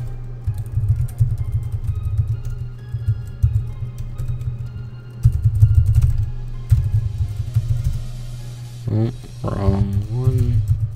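Computer keyboard typing while installing the Minecraft Forge 1.7.10 mod loader: faint, quick key clicks over a low steady hum, with a voice talking toward the end.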